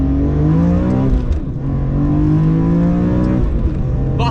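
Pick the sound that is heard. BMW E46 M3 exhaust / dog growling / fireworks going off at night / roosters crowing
BMW E46 M3 exhaust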